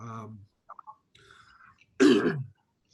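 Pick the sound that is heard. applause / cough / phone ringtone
cough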